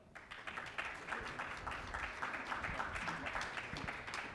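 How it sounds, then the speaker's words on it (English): Faint audience applause at an investor forum as panelists come onto a stage, a steady patter of many hands clapping, distant and quiet throughout. "Please give a warm round of applause."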